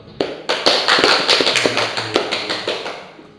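A small group of people claps for a few seconds, sharp and close. The uneven slaps build quickly, then thin out and fade.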